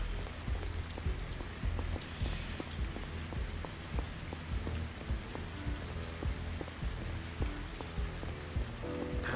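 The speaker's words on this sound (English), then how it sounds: "And it started raining." Steady rain falls in the video game Lacuna, a dense patter of drops on surfaces with scattered louder plinks over a constant wash, continuous and fairly close, with no talking.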